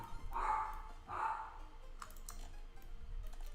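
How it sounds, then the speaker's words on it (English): A dog gives two loud, close barks in quick succession, followed by faint clicking like a computer keyboard being typed on. "Goddamn dog."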